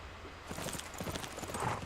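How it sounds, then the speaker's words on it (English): Hooves of a horse archer unit in Civilization 6, a quiet patter of clip-clop footfalls that picks up after a brief hush and carries steadily, with a faint whinny near the end. "Oh, goodness gracious, a horse archer."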